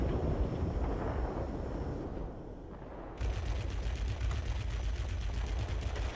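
Rapid aircraft cannon and machine-gun fire rattles in a World of Warplanes dogfight, steady loud bursts over constant engine and wind roar.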